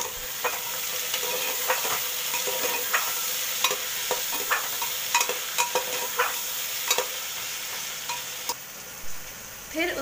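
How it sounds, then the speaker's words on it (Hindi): Oil sizzles steadily in a pan of frying onions and slit chillies while a spoon scrapes and stirs, with sharp clicks and clatters scattered through the frying. "प्याज के साथ ही स्लिट की हुई मिर्च डाल देंगे।"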